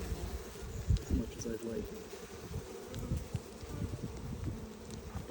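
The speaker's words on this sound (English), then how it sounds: "that is a good looking hive with a lot of bees" Honey bees swarm and buzz around a heavy wooden hive box in the shade of pines in October, a dense continuous drone close by, with a person speaking briefly over it.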